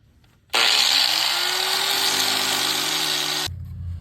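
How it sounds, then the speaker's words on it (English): An angle grinder cuts into the tie rod of a 2012 Ford F-150, a loud, close, high-pitched whine that starts abruptly and holds for about three seconds before cutting off, with a dropping tone as it spins down. "I'm just going to cut through it with a grinder, snap it off"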